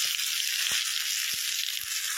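Curry leaves sizzling in hot oil during tempering, a steady bright frying hiss with a few soft taps from stirring, close and continuous.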